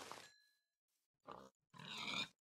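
Pig grunts from Minecraft, heard as three short separate bursts: a brief one at the start, a small one midway, and a louder, fuller grunt near the end, with silence between them.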